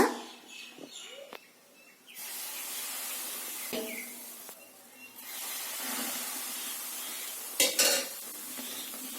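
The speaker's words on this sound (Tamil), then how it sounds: "எண்ணெயை நீங்கள் மைசூர் பாகோட சேர்க்கிற போது இது மாதிரி நல்லா பொங்கி வரணுங்க" Hot oil and ghee ladled bit by bit into a gram-flour Mysore pak mixture in a pan, hissing and frothing up in long loud surges, broken by brief pauses and sharp clinks of the ladle.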